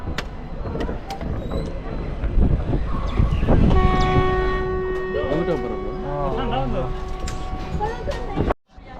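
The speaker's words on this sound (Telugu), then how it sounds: "కడప నుంచి అయితే ఇప్పుడైతే ట్రైన్ అయితే స్టార్ట్ అయింది." An express train pulls out of Kadapa station on a journey from Tirupati, with rumbling carriages, a sustained horn blast, and a warbling whistle-like tone close by, while voices talk throughout.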